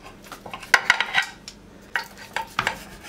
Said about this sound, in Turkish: Şimdi dilimleyip servis tabağına alacağım.